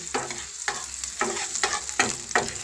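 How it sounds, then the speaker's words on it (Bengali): Garlic and ginger fry in white oil, a close sizzle punctuated by five rhythmic scraping stirs about half a second apart, with no talk. "এটা ভালো করে ভেজে নেব।"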